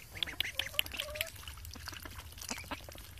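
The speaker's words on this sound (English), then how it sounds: "Duck, duck, duck." Backyard ducks on their first steps outside, giving a few soft, high quacks and chatters close by over a faint trickling, watery background.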